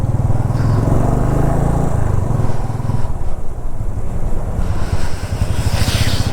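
A motorcycle rides along the road at the start of a long trip from Mumbai toward Spiti Valley, its engine a loud, close, steady drone heavily buffeted by wind rushing across the microphone.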